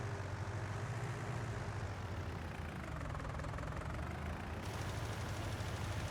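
A tractor engine in the Farming Simulator video game drones steadily at a low idle-like hum, constant and moderately quiet with no talking over it.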